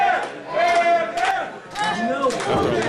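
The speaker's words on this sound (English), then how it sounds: "You can hear the crowd now firmly behind the queen of TOS" Crowd cheering and shouting at a Test of Strength arm-wrestling event, loud and lively with raised voices swelling throughout, mixed with an announcer talking over it.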